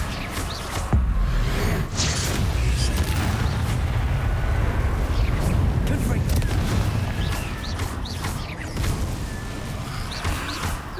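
Confringo fire spell blasts in Hogwarts Legacy burst amid dense combat noise, low booms and crackles layered over constant rumble, with a sharp hit near the start and spoken lines over the action.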